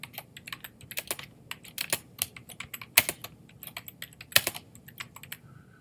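Fingers tap a computer keyboard in quick, uneven bursts, entering a title for a lyrics video in iMovie, with sharp clicks, close and fairly quiet, with no voices.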